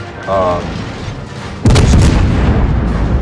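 Battleship main-gun shells fire in the naval game World of Warships, a sudden deep boom that rolls into a sustained loud rumble over a low background of game noise, with a brief tone beforehand.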